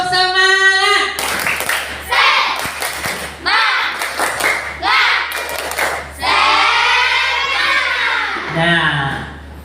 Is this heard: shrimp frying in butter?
no